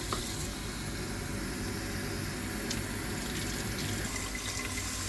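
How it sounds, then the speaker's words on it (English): Water pours steadily from a cup onto uncooked rice in a pot, a continuous splashing trickle at moderate level without pause. "Now we add the water."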